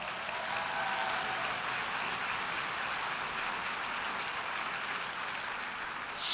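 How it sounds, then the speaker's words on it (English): A large audience claps steadily in a hall at a United Nations International Women's Day event in New York, honoring NASA mathematician Katherine Johnson; dense, even applause fills the whole stretch without voices. "give her a round of applause."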